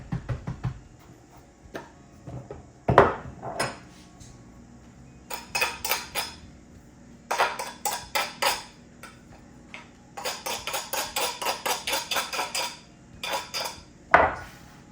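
A pie plate handled on a counter while pastry crust is tucked into it for a pecan pie, with scattered close clinks and light scrapes, including a few sharper knocks, and no talking.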